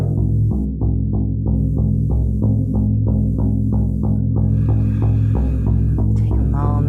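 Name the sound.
shamanic drum being played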